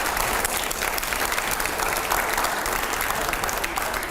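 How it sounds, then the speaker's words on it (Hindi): Studio audience applause on a television debate show, a dense, loud, continuous roar of many people clapping that stays even throughout. "जोरदार तालियां अगले सवाल से पहले"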